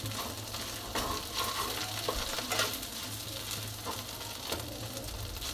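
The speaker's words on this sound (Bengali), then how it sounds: "এখন দিয়ে দিব কিছুটা সরিষা বাটা।" Mustard paste fries with chilli and garlic in a pan for an olive pickle, a dense steady sizzle under busy stirring and scraping that rises and falls throughout, with no talking.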